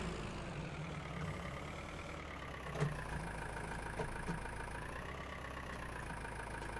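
Tractor engine in Farming Simulator 19 moving a trailer, a steady low idling drone with slight rises in pitch as it revs, close and continuous with a few faint clunks.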